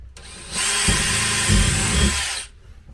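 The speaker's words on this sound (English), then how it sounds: "So we're going to go ahead and run our 2 holes through the 1/4-inch drill bit." A power drill with a quarter-inch bit whirs steadily for about two seconds, close and loud, with its pitch bogging down briefly as the bit bites into material while drilling holes for a pontoon boat arm rest.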